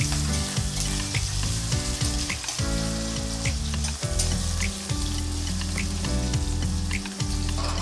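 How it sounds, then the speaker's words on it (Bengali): Two medium chopped onions fry in hot oil for a cabbage and egg dish, giving a steady, dense sizzle with occasional stirring scrapes, close and continuous, no voices. "এই পেঁয়াজটা ভালো করে ভেজে নেব।"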